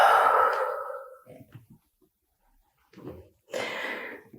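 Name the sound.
deep breathing during yoga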